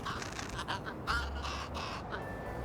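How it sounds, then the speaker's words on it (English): A crow caws in the video game Little Kitty, Big City, a series of rough calls repeated in quick bursts over a soft, steady game backdrop. "Now, there's Crow."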